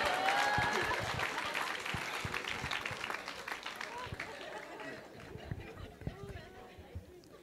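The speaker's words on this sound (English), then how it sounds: "Clap your hands" A church congregation claps hands together during a lively service, dense applause-like clapping starting loud and gradually thinning out, with crowd voices mixed underneath.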